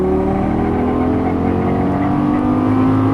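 A Lamborghini Gallardo LP550-2 engine pulls steadily under throttle, a continuous loud drone with rising harmonic tones as revs climb, heard from close by with no talking.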